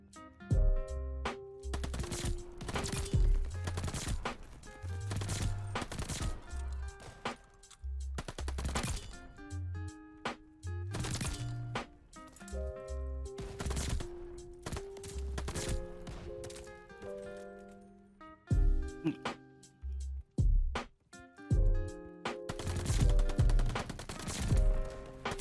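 Sniper and automatic gunfire in a first-person shooter against bots, sharp shots in irregular bursts with gaps between them, loud and close, with no talk.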